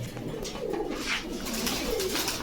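Fancy domestic pigeons at a pigeon market coo in soft, repeated low throaty calls, close and fairly loud over a light background hum.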